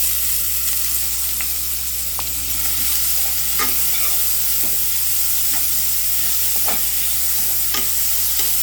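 Finely chopped small onions, about twenty to twenty-five, sizzle steadily in a pan for mutton kuzhambu gravy, with repeated scraping stirs of a spoon over the continuous frying hiss.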